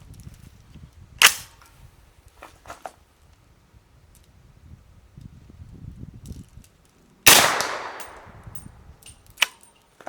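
Two sharp, loud rifle shots from a 10.5-inch 300 Blackout AR-15 running an LMT bolt carrier group crack outdoors several seconds apart, each trailing a short echo, with faint clinks and rustling between them.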